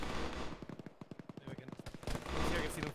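Gunfire in a military video game, a rapid series of sharp shots in quick bursts, moderately loud against a noisy background with distant rumble before and after.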